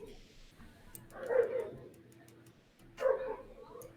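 Dogs at home yip and whimper in two short bursts separated by a pause, moderately close, with a bit of faint background sound.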